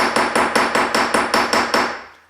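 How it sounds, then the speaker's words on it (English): A planishing hammer strikes the edges of a jump-ring bracelet on a bench block, nine quick, even, ringing metallic blows in a steady rhythm, close and loud, the last one fading out. "I've got my planishing hammer. Kind of hammer my edges here, just to give it a nice flare."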